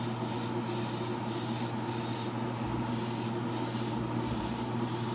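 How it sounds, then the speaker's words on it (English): An airbrush spray booth's exhaust fan runs at a low setting, a steady, even whoosh of moving air with a constant hum underneath, close and unbroken. "Hope you can hear because of the fan. I've got it turned down pretty low."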